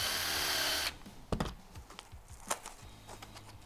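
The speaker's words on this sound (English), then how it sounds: "I've got it in a little impact gun here, spin that up" An impact driver spinning a smoothing tool whirs loudly for about a second, then stops, leaving quiet workshop sounds with a few soft knocks and clicks.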